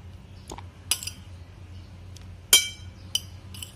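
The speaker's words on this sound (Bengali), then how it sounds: "আমি টমেটোগুলো একটা পাত্রে দিয়ে দিচ্ছি" Tomatoes being dropped into a bowl while making spicy chanachur street food, giving a few sharp, separate clinks against the dish with quiet gaps in between and no talking.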